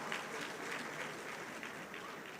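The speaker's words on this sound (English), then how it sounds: "A round of applause for her." Steady applause from the audience at the opening ceremony of the 2025 Nigerian Society of Engineers conference in Ibadan. It sounds like a continuous crowd clapping that keeps going evenly for the whole stretch, with no talking on top.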